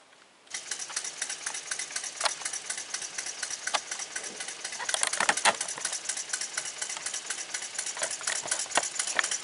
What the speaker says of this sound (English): you can see he started the backhoe over there